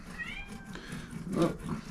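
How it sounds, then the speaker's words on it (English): A cat in a workshop gives a drawn-out meow near the start, followed by rustling, a muffled bump and a brief spoken exclamation under a noisy background. "one of my cats is calling me to come in the workshop"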